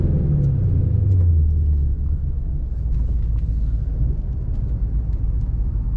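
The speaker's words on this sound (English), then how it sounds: "All right, second gear rev match, first gear rev match." A 2011 Mustang GT with a Roush axle-back exhaust blips its revs on downshifts, a loud, close V8 burble that rises in a brief throttle flare, then settles into a deep, rumbling idle-like drone.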